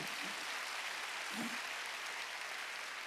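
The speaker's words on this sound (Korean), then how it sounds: "박수 치려면 세게 치라고." Church congregation clapping during a Sunday worship service, a faint, continuous spread of hands clapping at a distance, low in level with a couple of brief low murmurs underneath.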